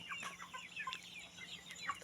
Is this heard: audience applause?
no